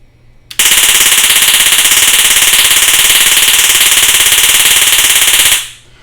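A Taser X26 discharging in one continuous loud electric crackle, a rapid buzzing rattle that starts abruptly, holds steady for about five seconds and then cuts off, close up and alone.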